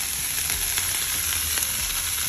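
Vegetables hit curried chicken frying in a pan, producing a steady, dense sizzle that stays loud and even throughout with no voices over it.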